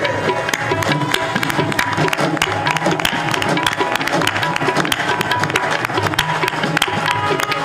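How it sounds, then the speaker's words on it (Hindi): Dense, steady crowd applause from an audience at a welcoming ceremony for a legislator in Ayodhya fills the whole stretch at a loud, even level, with busy overlapping claps throughout. "अरे ताली बजाओ तुम देखते रह गए।"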